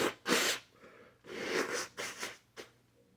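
Someone blows their nose close to the microphone, making several short, breathy nasal honks and snorting blasts in an uneven rhythm.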